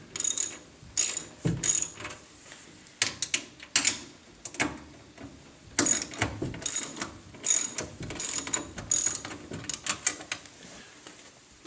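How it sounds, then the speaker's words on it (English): A ratchet wrench loosens the nuts on bracket posts, producing bursts of crisp clicking pawl strokes, some short and some longer runs, separated by brief pauses, close and fairly quiet with no talk. "I loosen the nut on each one of these posts."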